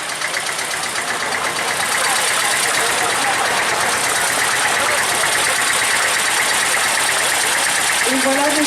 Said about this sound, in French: avec les deux tracteurs qui suivent, qui clôturent le cortège